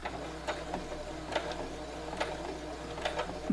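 A sewing machine stitching a quarter-inch quilt seam on a fall table runner, giving a soft, steady mechanical whir with regular faint clicks, close and alone.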